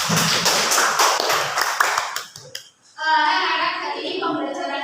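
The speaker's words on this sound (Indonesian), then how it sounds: "Oke, tepuk tangan dulu kemudian." A class of children in a school lesson clapping together, a fast, dense burst of applause for about two seconds that fades, followed by quieter classroom sounds.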